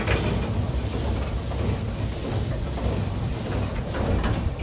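Steam-driven Brünn works locomotive, long used at the Siegendorf sugar factory, departing at the Schwechat railway museum: steady broadband hiss and rumbling rail noise, continuous and fairly loud, with no talk.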